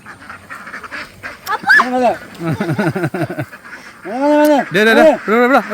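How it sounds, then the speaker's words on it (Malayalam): Several ducks quack loudly and close, in bursts of overlapping calls with short pauses between. "താറാവും കൂട്ടം"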